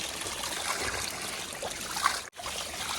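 Water gushing steadily from a roadside spring tap where people come to fill containers, a continuous broadband trickling stream heard close up, with a brief dip near the end.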